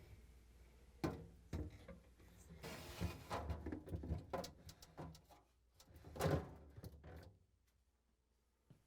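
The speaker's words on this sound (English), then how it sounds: "now I'm going to slide the shelf in" A Frigidaire refrigerator glass shelf slides into the fridge, giving a series of scraping knocks and clunks of glass and plastic against the rails, with a louder bump near the end, close by and fairly quiet.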